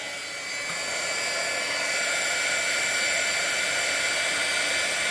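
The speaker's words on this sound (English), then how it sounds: "I'm going to get the heat gun over here, and we'll see what we got." A heat gun blows a steady, close airy roar over embossing powder on a handmade card from scrap file folder and coaster material, rising slightly at the start and then holding constant without talk.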